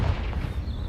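A Confringo blasting spell bursts in Hogwarts Legacy, a single dense, rumbling explosion with heavy low-end boom filling the whole second.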